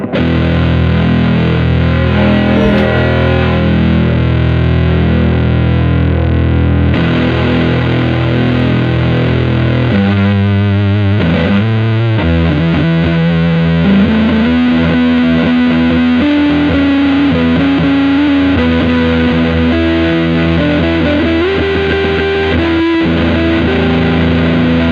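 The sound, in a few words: Stratocaster through OC75 Tone Bender MKII clone fuzz, 5e3 amp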